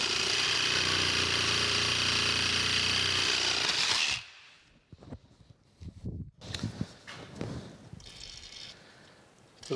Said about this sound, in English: I'm gonna get my Sawzall and we'll just go ahead and cut those like we did before